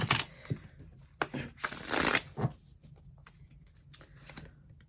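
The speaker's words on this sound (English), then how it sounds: "So let's give this one last shuffle" Tarot cards being shuffled up close, quick papery riffles and flutters in a few bursts, then lighter scattered taps and slides as the deck settles.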